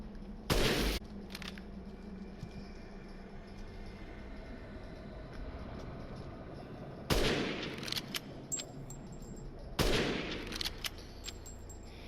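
Gunfire in Resident Evil Village during a sniper section: a sharp loud shot early, then two more heavy blasts later with ringing tails, over a quiet rumbling backdrop.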